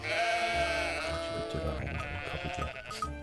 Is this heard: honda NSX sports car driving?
no